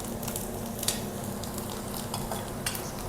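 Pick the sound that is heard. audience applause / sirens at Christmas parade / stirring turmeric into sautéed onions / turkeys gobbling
stirring turmeric into sautéed onions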